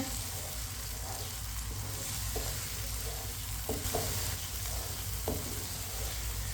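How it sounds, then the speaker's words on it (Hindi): Peas and carrots fry over medium heat while a spoon stirs them, a soft continuous sizzle with occasional scraping taps against the pan under a low steady hum. "अब इसे चम्मच चलाते हुए 3-4 मिनट के लिए भून लेंगे"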